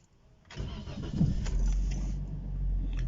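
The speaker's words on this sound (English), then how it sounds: "So I want to start this car" A car is started after a wheel bearing replacement: faint clicks and key jangle, then the engine cranks and catches at about half a second and settles into a steady, close idle.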